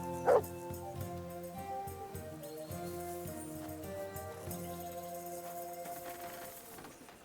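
A dog in the video game Kingdom Come Deliverance II gives one short, sharp bark near the start, then a few softer yips and whimpers over quiet game music.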